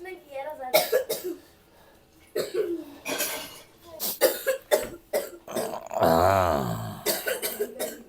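A child with a cough and fever coughs several times in short, sharp bursts, close to the mic, between bits of household chatter and other voices in the room.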